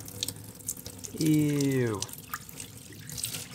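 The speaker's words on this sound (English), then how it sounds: "Now for the best part, the dumping of the old Rolls-Royce carpet water." Dirty water from old Rolls-Royce carpets is dumped down a drain, a loud gushing pour of about a second with a falling gurgle as it ends. Water drips and trickles before and after, and a voice reacts briefly.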